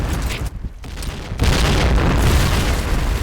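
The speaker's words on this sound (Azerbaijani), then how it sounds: "Dikkat, bomba atıram." A grenade explodes in the AZ Point Blank shooter game, a brief quiet drop giving way to a loud, sustained blast rumble that fills the rest of the moment with dense low-end roar.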